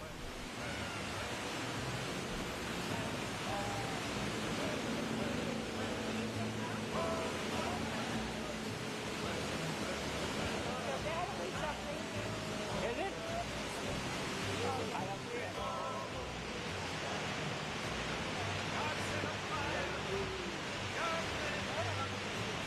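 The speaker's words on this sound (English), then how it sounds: "It is just pouring down rain." A constant hissing roar of heavy rain and falling water at Iguazu Falls, Argentina, fills the scene, steady and broad, with faint indistinct voices buried underneath.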